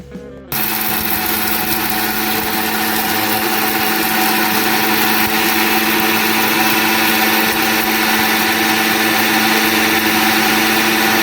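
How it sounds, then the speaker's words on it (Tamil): A kitchen mixer grinder grinds fenugreek and mustard seeds for instant mango pickle, starting abruptly after a brief pause and then roaring at a loud, steady, high-pitched whine with no break. "இப்போ இதை வந்து மிக்சியில் போட்டுக்கலாம்"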